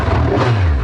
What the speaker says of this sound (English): Very free revving.